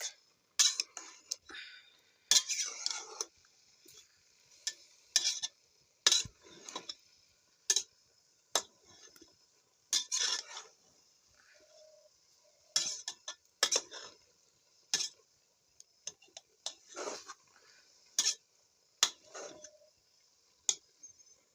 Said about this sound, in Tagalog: Halo-haloin lang para hindi dumikit.